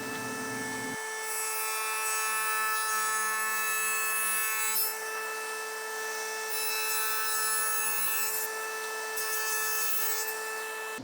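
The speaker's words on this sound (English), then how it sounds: "I'm going to raise the blade to 1/2 inch and perform my next cut." A table saw hums steadily with its blade raised to half an inch, its motor tone holding throughout. Repeated bursts of harsh, hissing cutting noise come as wood feeds through the blade, up close with no talking.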